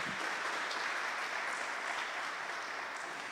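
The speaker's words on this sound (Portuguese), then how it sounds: "Pode aplaudir mais uma vez." Audience applause at a Catholic talk on Marian consagração, a steady, dense wash of many hands clapping throughout, fairly loud and continuous with no pauses.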